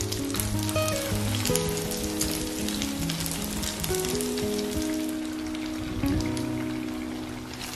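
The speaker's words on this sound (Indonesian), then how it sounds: "Kita goreng pada minyak yang udah benar-benar panas," Banana snacks frying in very hot oil over a low flame, giving a steady, dense sizzle and crackle like pattering rain, loud and close throughout with no talking.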